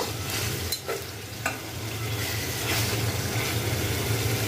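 Chicken leg pieces frying in a pan with spices, a constant close sizzle with scraping stirs from a spoon, no talk.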